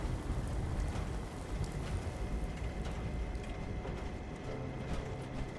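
Rain falls in the video game Fallout 4 as a dense, even hiss, steady and fairly loud for the whole stretch, with no talk over it.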